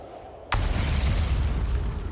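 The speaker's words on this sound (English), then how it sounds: "Explosions." A single sudden, loud explosion in a video game, a sharp blast halfway in that rolls into a long, heavy rumble and lasts to the end.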